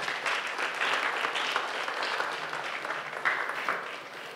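Steady audience applause in a hall at a university counselling and emotional health awareness event, a moderately loud, continuous patter of many hands clapping for several seconds.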